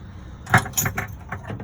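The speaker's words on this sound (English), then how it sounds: "Also in this cupboard, you've got your keys, you've got your water key" A bunch of keys, including a water filler-cap key, jangles in a cupboard in a few quick close metallic rattles lasting about a second.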